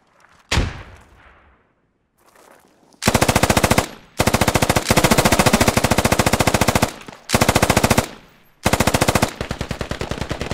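Sustained automatic machine gun fire in the military shooter game Squad, long loud bursts of rapid shots broken by short pauses, opening with a single heavy thump before the firing starts.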